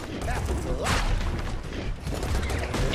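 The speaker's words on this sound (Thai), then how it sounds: "ระเบิดไปทีโฟ" C4 charges detonate in Serious Sam 4, dense crackling blasts and rumbling booms that surge in rapid, overlapping bursts close and loud throughout the stretch.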